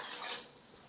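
Water or stock being poured into a cooking pot for a homemade baked bean sauce, a brief splashing gush that fades after a moment, quiet and close.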